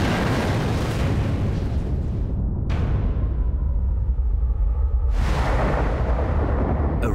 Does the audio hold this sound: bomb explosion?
yes